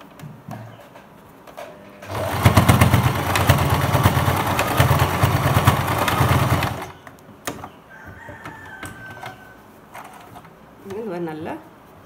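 A sewing machine stitches the folded edge of a pillow cover in a steady, dense mechanical run of about five seconds, loud and close, with quieter room sounds and a brief voice before and after.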